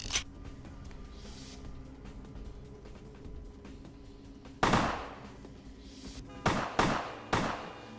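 Sharp gunshots in Vampire the Masquerade: Bloodlines ring out fairly quiet and spaced apart, one near the start, one in the middle and three close together near the end, over a faint hum.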